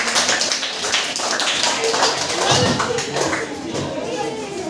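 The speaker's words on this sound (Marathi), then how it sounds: "जोरदार टाळ्या वाजा एकदा मुलींसाठी" A class of sixth-grade children clapping loudly and continuously for the girls, a dense, steady patter of many hands filling the room with scattered kids' voices mixed in.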